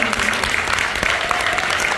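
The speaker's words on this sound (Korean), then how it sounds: "여러분 큰 박수 한번" Audience applause at a seminar, a dense, steady clapping from a crowd filling the whole moment at even loudness with no voices over it.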